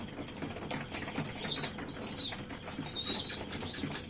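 Pigeons flap their wings while feeding their young, making a steady, close fluttering with faint squeaky chirps running through it.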